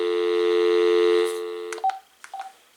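An AT&T CL82301 phone on speakerphone gives a steady tone lasting over a second, followed by a few brief clicks and short keypad beeps, loud and close.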